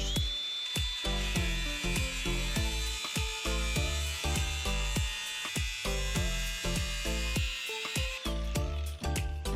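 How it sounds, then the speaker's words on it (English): An angle grinder cuts open scrap metal to get at the copper inside. Its loud, high whine runs steadily throughout, broken by rapid repeated clanks and rattles of metal against metal. "I'm going to be using a grinder"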